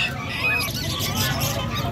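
Lovebirds at a bird market in San Carlos City, Pangasinan, including Lutino, green and blue birds, chirp and chatter continuously, close by, over a busy market murmur.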